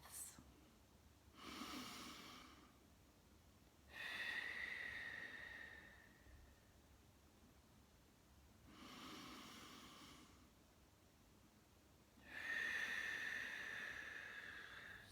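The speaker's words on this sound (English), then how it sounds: "3 slow, deep breaths." Slow, deep breaths during a relaxation stretch for the piriformis, three long inhales and exhales in a steady cycle, close and soft, with airy hiss on each breath and no talking over it.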